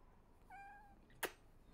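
A female cat gives one faint, drawn-out meow, followed by a brief sharp click in an otherwise quiet room.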